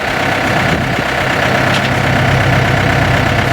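A combine harvester engine idles, sitting parked with the speed set to zero, in a loud, steady, low rumble with a faint knocking texture and no pause.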